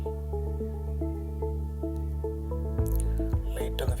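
A small amount of liquid trickles and drips into a jar aquarium, a soft wet splashing and squishing over a steady tonal hum, close by and modest in level.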